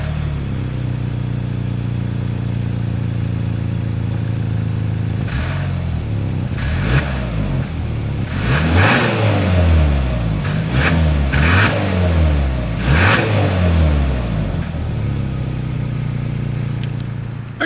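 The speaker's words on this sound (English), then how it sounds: "As always, here is that exhaust clip." A 2022 Hyundai Santa Cruz idles steadily, then its exhaust revs in several sharp bursts that rise and fall in quick succession before it settles back to a low idle, loud and close.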